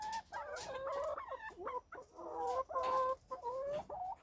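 Hens in a backyard coop, kept for eggs, clucking and cackling continuously in overlapping calls at moderate distance, with no talk.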